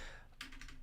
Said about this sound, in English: Oh wow, my typing is awful.